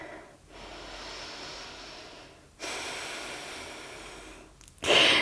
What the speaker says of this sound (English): Deep breath here.